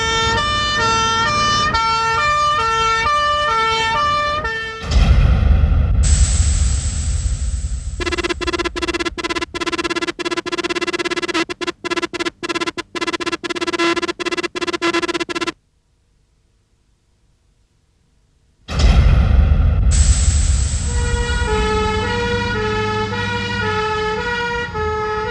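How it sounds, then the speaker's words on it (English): Fire engine siren wailing loudly as a pump engine races to a scene, with steady two-tone sweeps, a burst of rapid chopped tones, a short silence, then the siren returning strong over road noise. "you'll see one of the many makes of pump engine racing to the scene"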